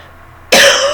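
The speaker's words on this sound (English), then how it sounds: "I hate this nasty cough." A single sharp, loud cough bursts out halfway through, after a quiet room, from a person with a nasty lingering cough.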